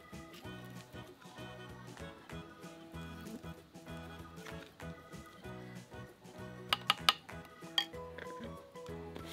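Chili paste and shrimp paste pounded in a mortar for Thai sweet chili dip, steady repeated thuds and clinks over background music, with a few sharper knocks near the end.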